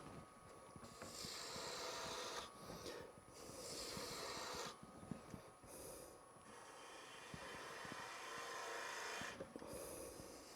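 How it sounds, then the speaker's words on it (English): A wooden box on a lathe is reshaped with a fluteless gouge, giving a continuous close scraping rasp that swells and fades in passes, with brief gaps between cuts and no talking. "So then with the fluteless gouge, I can reshape it a little bit more"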